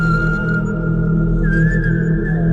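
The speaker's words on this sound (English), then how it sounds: "I could hear human whistling coming from within." A thin, steady whistled tone holds over a loud constant rumble, shifting pitch slightly partway through.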